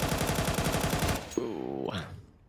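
Rapid automatic gunfire in a Counter-Strike match, a dense stream of shots that cuts off abruptly and gives way to a brief tonal sound.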